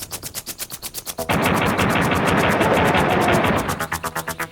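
Pistol gunfire in Duke Nukem 64 fires in rapid, evenly spaced shots, a rhythmic string of loud, close pops broken briefly by a dense burst of noise in the middle before the steady shooting resumes.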